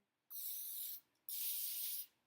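Two short hissing bursts of cooking spray onto a lined baking sheet, each about a second long, with a brief pause between them, close and fairly quiet.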